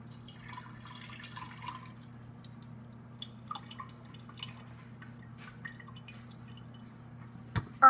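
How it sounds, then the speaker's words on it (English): Lemon juice is poured from a container into a pitcher in a home kitchen, a faint trickling and dripping of liquid over a low steady hum, ending in a louder clunk, with no voices. "now we are going to pour the lemon juice into the pitcher."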